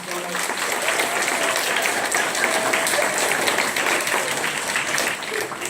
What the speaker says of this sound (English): can you guys give them a round of applause for giving us donuts?